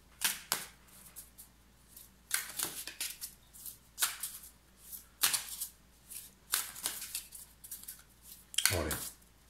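Tarot cards shuffled by hand, a series of crisp riffling bursts with short pauses between them, fairly close and moderately loud, with some quieter handling noise between shuffles.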